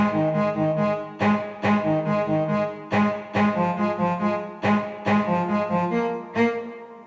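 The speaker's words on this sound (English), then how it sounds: "there's also two cellos playing one left and right" Two stock software cellos, panned left and right, play a remake part as a steady series of bowed, accented notes in a regular rhythm, full and close, with no voices.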